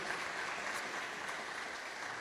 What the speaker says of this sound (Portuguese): Irmãos, vamos aplaudir o Senhor, Ele merece